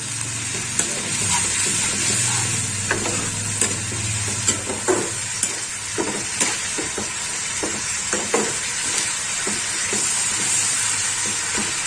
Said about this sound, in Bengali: এবার ভালো করে মশলাটা একটু ভেজে নেব।